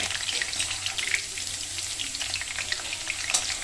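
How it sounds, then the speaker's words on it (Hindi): Capsicum (bell pepper) frying in oil in a home kitchen, giving a steady, close sizzle with crackling pops throughout, no voices. "तो अभी ये शिमला मिर्च कैप्सिकम जो है उसको हम फ्राई कर रहे हैं"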